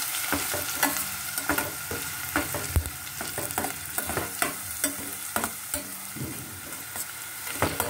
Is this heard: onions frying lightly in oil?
yes